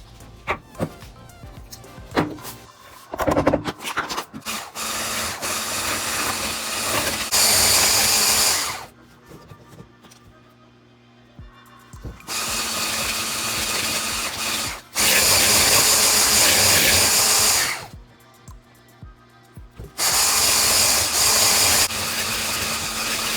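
Electric hand mixer beating softened cream cheese and butter for a keto donut glaze, running in several loud steady bursts of a few seconds each with quieter gaps between.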